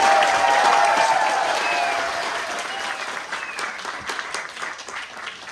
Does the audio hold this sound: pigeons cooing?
no